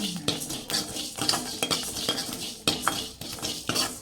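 Rice dry-roasts in an oil-free pan, stirred with a utensil, giving repeated sharp scraping clicks and rattles of grains against metal in an uneven rhythm, close and fairly quiet, with no talking.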